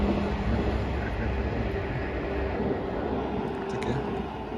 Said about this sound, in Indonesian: Ada kereta lewat juga itu.